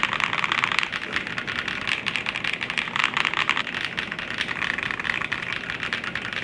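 Typing on a Matrix TKL tenkeyless mechanical keyboard fitted with Feiniao keycaps, as a steady rapid clatter of crisp, bright keystrokes close to the mic, continuous and alone without any voices.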